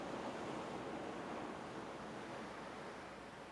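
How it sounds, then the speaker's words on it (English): Ocean waves and surf wash in a steady, continuous rush, played softly as a relaxation soundscape with no voices. "as you just sit and listen to the ocean music"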